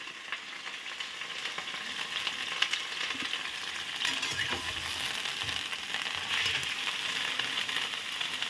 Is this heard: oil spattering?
yes